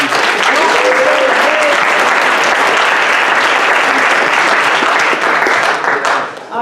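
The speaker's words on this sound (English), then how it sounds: "So give a round of applause for them." A seminar audience applauds the outgoing ASCE officers in a steady, loud wash of clapping that lasts several seconds and fades at the end.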